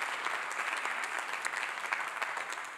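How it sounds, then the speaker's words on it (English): An audience at a panel discussion breaks into applause, a soft, even wash of many hands clapping at a distance with no talking over it. "Can we give a round of applause for Cliff?"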